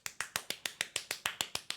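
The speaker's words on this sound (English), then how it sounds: "Hey, what was all that clapping?" About a dozen quick, sharp claps come in a fast, even rhythm, each hit crisp and snappy against near silence, fairly quiet overall.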